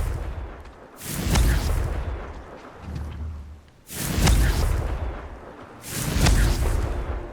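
Three loud booming blasts from the Confringo fire spell in Hogwarts Legacy, each a sudden burst that rolls and fades over a couple of seconds, with no talk.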